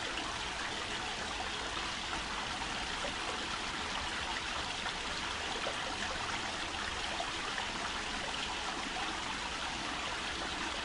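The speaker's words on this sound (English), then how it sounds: "It's the sound of water." Steady rushing of running water, a continuous broadband stream flowing close by with no breaks and no voices.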